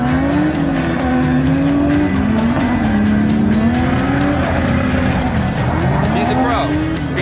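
A drifting FRS with a K-series engine swap screams around a track, engine note rising and falling with the throttle while tires squeal steadily, loud and close for the whole stretch.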